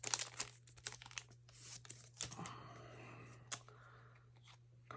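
Crinkly plastic wrapper of a trading card booster pack being snipped and torn open, a few sharp crackles and rustles up close amid quiet handling, fading to softer shuffling.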